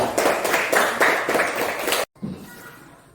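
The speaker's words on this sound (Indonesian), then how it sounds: "Tepuk tangan." A small group claps briefly for about two seconds in a classroom lesson, then the clapping stops abruptly, leaving quiet room noise.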